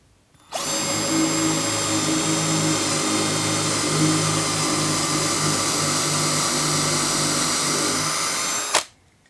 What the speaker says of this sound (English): I'm just going to drill into this sample block of wood. It's just a 2x4.